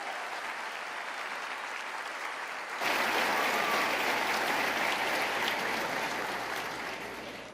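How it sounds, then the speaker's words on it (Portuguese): A church congregation breaks into applause for Jesus, a steady wash of many hands that swells abruptly louder partway through and holds, even and fairly distant, before tapering slightly at the end. "Dá um aplauso a Jesus."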